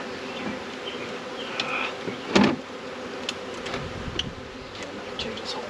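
Bees buzz steadily around an eight-frame hive during entrance reducer work, a close, continuous hum with occasional louder passes and a brief sharp knock midway.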